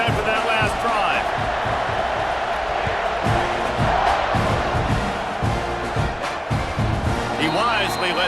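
A stadium crowd in the EA Sports College Football 26 video game roars steadily after a touchdown drive, with sustained dense cheering and whoops filling the whole stretch at a loud, constant level.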